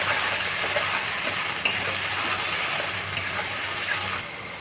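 Ginger, cumin and green chilli paste fries in oil with nigella seeds, a steady close hiss and sizzle with a couple of faint stirring clicks throughout, no voices.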